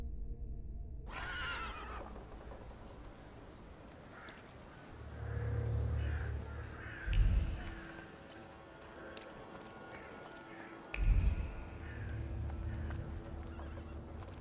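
A horse in The Thaumaturge whinnies and clip-clops, with two louder bursts of hoofbeats and snorting standing out over a steady low in-game ambience.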